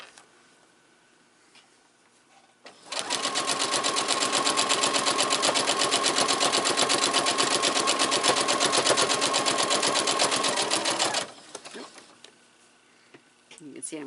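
Sewing machine stitching quilting fabric, a fast, even mechanical chatter running steadily for about eight seconds, then stopping, with a quiet voice before and after.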